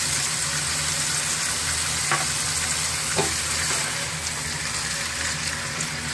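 Mutton pieces frying in a pot with salt for Peshawari namkeen gosht, a dense continuous sizzle close up with a couple of faint clinks, no talk.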